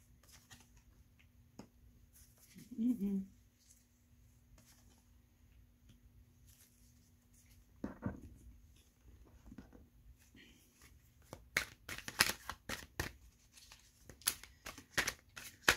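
Tarot cards are shuffled by hand, quiet soft rustles and a brief thump early, then a run of crisp riffling snaps toward the end in a hushed room.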